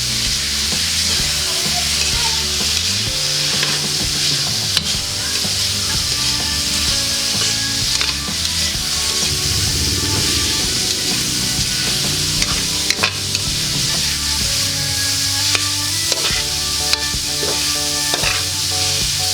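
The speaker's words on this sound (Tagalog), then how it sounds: "Tapos ilagay natin yung karne. Haluin lang natin guys hanggang lumabas yung kanyang aroma." Pork being stir-fried with onions in a pan, a steady sizzle under scraping and clinking of a utensil throughout, with background music playing and no talk.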